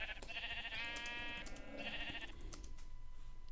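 Sheep bleat in a Minecraft server game, a few wavering synthetic cries in quick succession, close and fairly clear over a quiet background before trailing off.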